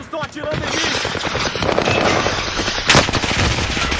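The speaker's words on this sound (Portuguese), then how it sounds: "Os desgraçados estão atirando em mim." Rapid automatic gunfire from a Call of Duty Warzone match, dense bursts of shots filling the clip with a sharp louder crack near the end, close and loud, with voices talking over it.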